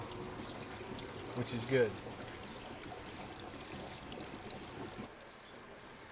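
Water trickling steadily from a leak in a 55-gallon rain harvesting drum, a faint continuous stream under someone talking outdoors.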